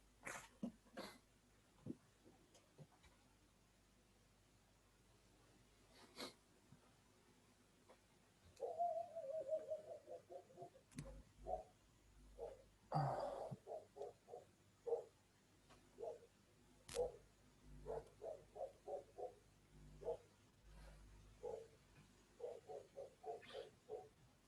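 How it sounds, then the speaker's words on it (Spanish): A dog barks repeatedly in short, sharp bursts during an online class, faint and somewhat distant, with a quiet stretch first and then a run of rapid, evenly spaced barks that keeps going to the end. "¿De quién es ese perro? Ladra."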